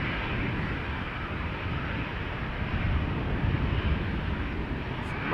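Air Arabia airliner departing Amsterdam Schiphol Airport, a steady broadband jet roar with wind buffeting the microphone, holding level and slightly swelling over a few seconds.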